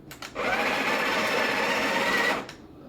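A Breville Barista Express BES870 grinds coffee beans, one loud close burst of whirring grind lasting about two seconds, with brief clicks before it and quiet after.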